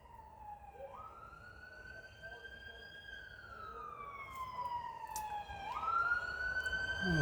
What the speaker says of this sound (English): I'll let this fire truck pass, or ambulance, excuse me